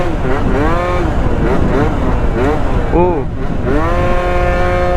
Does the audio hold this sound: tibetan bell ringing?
no